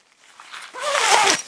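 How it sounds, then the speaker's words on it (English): A zipper being pulled open on a poncho tent in the woods gives a short, close, rising rasp that builds over about a second and holds before cutting off. "it goes together with a zipper. So you can just unzip it,"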